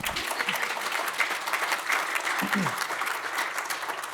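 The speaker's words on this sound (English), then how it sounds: "Did I hear a clap?" Lecture audience at a design school applauding a guest interior designer, continuous full clapping from a crowd heard fairly close, with a brief murmur of voices partway through.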